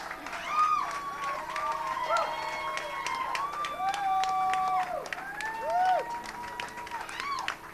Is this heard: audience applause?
yes